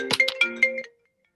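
A mobile phone ringtone plays a short, bright electronic melody of quick chiming notes, close and clear, then cuts off abruptly into silence during a talk at a book launch.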